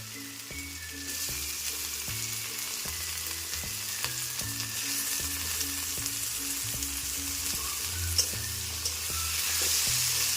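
Chopped tomato fries with golden fried onions and sizzles loudly and continuously in a pan, while the spoon knocks and scrapes at intervals underneath.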